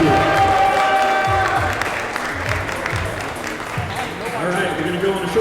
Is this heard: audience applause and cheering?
yes